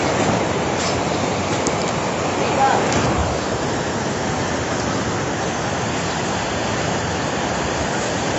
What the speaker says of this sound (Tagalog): Ang ilog po namin, umapaw na po.